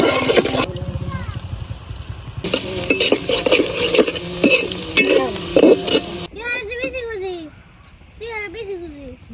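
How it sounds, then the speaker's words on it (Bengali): Onions frying in hot oil for birista in a beef khichuri pot, a loud dense sizzle with stirring clatter that stops abruptly, followed by quieter bubbling and chirping crackle, with a voice talking over parts. "এখান থেকে অর্ধেকটা পেঁয়াজ আমি বেরেস্তা করে নিতেছি"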